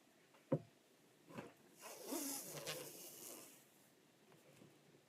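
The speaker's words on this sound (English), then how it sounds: "I'm going to keep taping" Adhesive tape is pulled and pressed onto a patriotic door hanger, giving a few short faint rips and crackles, one sharp snap near the start and a longer rasping pull in the middle, quiet and close.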